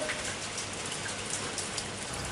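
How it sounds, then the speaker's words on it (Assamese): Steady rain pours down in a dense, even hiss, with no voices, close and continuous. "বাবাই কোৱা কথা হৈ গ'ল বৰষুণ দিছে বে"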